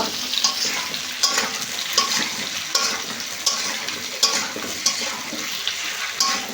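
Potatoes and arum roots being stir-fried in spice paste, a steady frying sizzle broken by regular scraping stirs roughly every second, close and clear with no talk.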